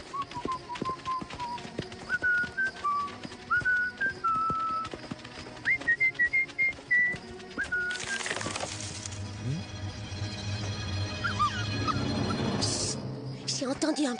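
A clear whistled melody of short rising and falling notes in a Strawberry Shortcake cartoon, followed by rumbling background noise with occasional voices.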